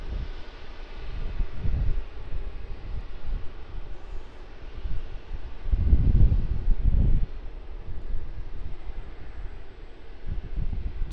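Distant aircraft at Sydney Airport near runway 16 right, a low steady rumble mixed with wind across the microphone, swelling briefly midway.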